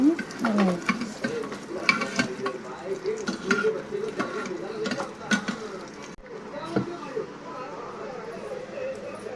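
Cumin seeds and asafoetida sizzle in hot oil for a Gujarati tempering, a steady crackling fry with occasional stirring scrapes. A voice talks over it throughout.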